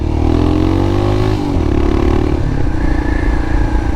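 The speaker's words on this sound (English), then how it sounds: "the fun factor regarding the noise that the bike makes now" Loud, throaty exhaust rumbling close by from a Royal Enfield Himalayan motorcycle with an aftermarket pipe, the engine note dropping and shifting as it rolls on and off the throttle, no talking.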